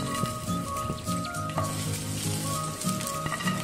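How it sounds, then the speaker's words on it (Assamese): Cashews, garlic and ginger frying together in a pan give a steady close sizzle with stirring scrapes and clicks throughout, and no one speaks. "গুটেইখিনি একেলগে ভাজি লম"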